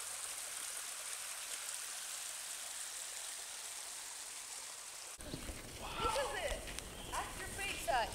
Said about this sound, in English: it was actually quite a nice waterfall running right through the middle of the campsite